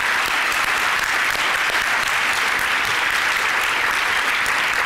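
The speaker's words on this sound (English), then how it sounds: "Please join me in giving these volunteers a huge round of applause." An audience at an annual charity breakfast gives volunteers a long, steady round of applause, dense and fairly loud, holding evenly throughout with no voices on top.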